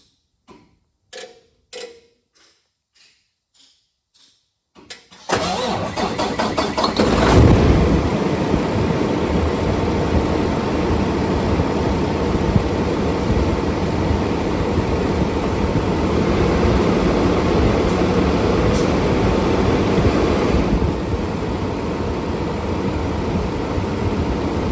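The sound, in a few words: Paccar truck engine cranking, starting and idling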